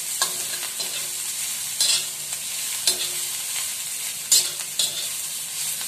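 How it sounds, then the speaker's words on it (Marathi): Green chilli thecha is stirred and fried with a spatula on an iron griddle over low gas, giving a steady soft sizzle broken by repeated scraping strokes every second or so, close and loud, with no talk. "आणि हा आता आपल्याला व्यवस्थित परतवायचा आहे. गॅस मंद ठेवायचा आहे आणि लोखंडी तव्यावर खूप छान येतो हा ठेचा"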